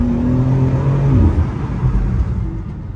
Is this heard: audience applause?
no